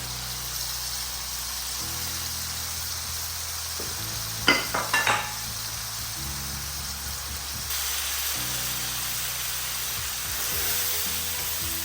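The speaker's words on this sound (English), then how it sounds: "So mix everything together." Tomato paste, spices and green chili stirred in an Instant Pot on high heat for channa dal: a steady sizzle throughout, with a quick cluster of spoon scrapes near the middle.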